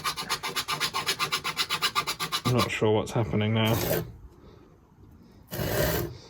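Rhythmic back-and-forth rasping of a saw cutting wood beside a live cable on a narrowboat, a steady run of strokes, then a person speaks briefly and a short scraping burst follows.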